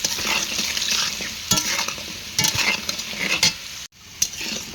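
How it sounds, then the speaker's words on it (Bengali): Potatoes frying in oil with turmeric and salt sizzle close and loud while a utensil scrapes and clinks through them in irregular strokes, with a brief dropout before the sizzle resumes. "আলুগুলো কিন্তু ভাজা হয়ে গেছে, এখন উঠিয়ে নেব।"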